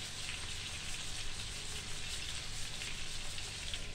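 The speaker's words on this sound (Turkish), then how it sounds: "Buharında böyle domatesin suyuyla kendi kendine pişsin canlarım." Chicken fillet steaming and frying in a pan in its own tomato juice, a steady, even sizzle that holds without a break, close and fairly quiet, with no voices.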